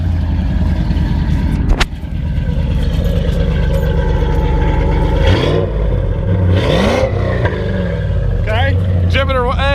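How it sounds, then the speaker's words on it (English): Cars fitted with straight-piped exhausts rev hard and loudly close by, with rising and falling engine pitch and crackling bursts, while people talk over the noise. "let's do a revving comparison here"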